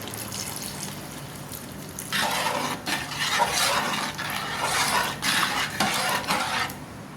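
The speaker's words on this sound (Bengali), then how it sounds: "এখানে সামান্য পানি দিয়ে দিব।" A little water goes into a cooking pot of bottle gourd and lentil dal, a soft splashing pour with clinks of a utensil against the pot, close up and alone.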